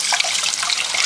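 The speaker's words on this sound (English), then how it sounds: "you want to rinse your cake until the water runs clear" Running water splashes and hisses as a dyed yarn cake is rinsed under a tap, a close, steady bright rush with no talking.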